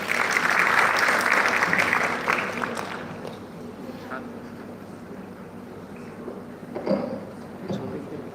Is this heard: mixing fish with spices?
no